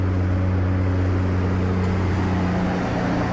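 Low, steady rumble of a truck approaching in a visual novel game scene, a droning engine hum at moderate level with no voices.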